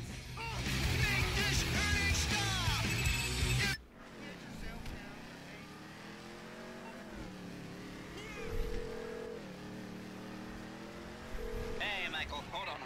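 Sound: car driving in the video game GTA V

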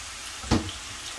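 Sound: frying papdi for dahi bhalla in oil

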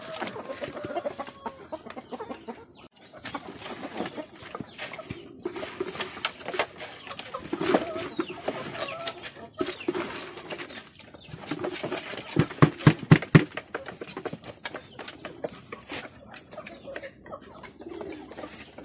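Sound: native chickens clucking on a Philippine farm

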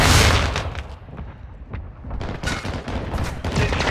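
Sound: mortar strike and gunfire in Call of Duty Modern Warfare 2 video game

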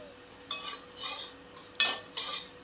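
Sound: roasting semolina in ghee in a pan

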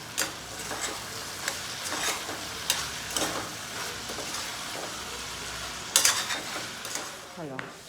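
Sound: chillies frying in oil in a pan

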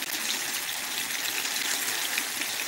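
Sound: draining grease from pan of meatballs

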